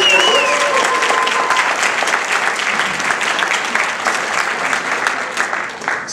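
An audience at the ESA Linnaean Games, an entomology quiz contest at the 2009 annual meeting in Indianapolis, claps steadily and loudly for the officials, with a few cheers mixed in.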